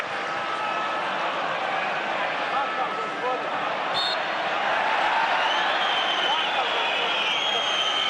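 Football crowd in Osijek, Croatia, at a Croatia v Wales match, a broad, steady wash of stadium applause and murmur, swelling slightly toward the end, with a commentator's voice over it.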